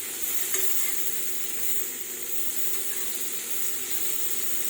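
Vegetable curry of potato and semal (silk-cotton) flowers sizzles steadily in a pan as it is stirred, a constant bright frying hiss with soft scraping, close and continuous.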